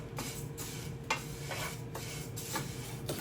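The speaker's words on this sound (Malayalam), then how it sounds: "സേമിയ വറുത്തെടുക്കാം കേട്ടോ." Vermicelli frying in ghee in a pan while being stirred: a soft, steady sizzle with a spoon scraping through the strands in repeated strokes, fairly faint and close.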